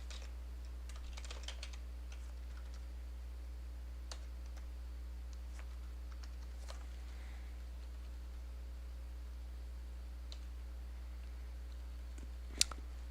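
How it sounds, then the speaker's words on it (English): Faint, sparse typing on a computer keyboard, scattered soft clicks with one sharper tap near the end, set against a low steady hum with no one talking. "I was typing up what we were talking about so far"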